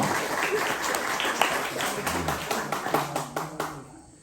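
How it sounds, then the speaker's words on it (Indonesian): Hands clapping at a Catholic scout gathering during a Sunday homily, scattered and uneven at first, then firming into a brief round of claps with some voices underneath before it fades out. "tepuk tangan untuk kita semua"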